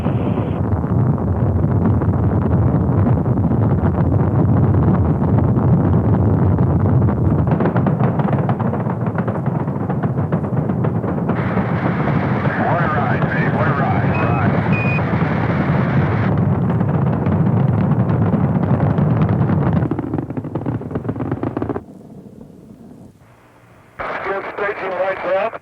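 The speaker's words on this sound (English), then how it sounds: "All engines running. Launch commit. Liftoff. We have liftoff 49 minutes past the hour." The Apollo 10 rocket's engines roar at liftoff with a continuous broadband rumble for over twenty seconds. Radio voice chatter runs underneath, and the roar fades briefly near the end.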